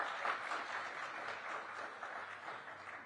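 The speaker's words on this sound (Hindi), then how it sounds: "अगर मैं सही हूं तो तालियां बजाइए आप।" Steady applause from a large audience at an interview event with S. Jaishankar, dense and continuous throughout, moderately loud with no speech over it.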